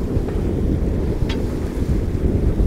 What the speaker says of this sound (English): 25 knots of wind at 60 degrees